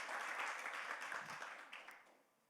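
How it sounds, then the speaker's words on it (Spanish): Congregation applauding during a church sermon, a dense wash of many hands clapping that rises quickly, holds steady and then tapers off toward the end. "Si ese aplauso es para el Señor, déselo fuerte"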